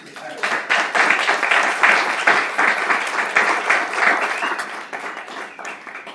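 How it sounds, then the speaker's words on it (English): Audience at a school board meeting breaking into a round of applause, dense steady clapping that swells, holds for several seconds, then thins out and fades. "I know some of you were going to give him a round of applause."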